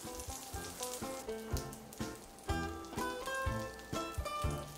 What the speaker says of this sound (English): we will let the brinjal pan fry for 4 to 5 minutes on one side